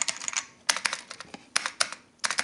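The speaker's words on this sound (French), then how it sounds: "j'aime bien le bruit des touches que font ce clavier" Keys clatter on a clicky old computer keyboard in quick bursts of typing separated by short pauses, close and crisp.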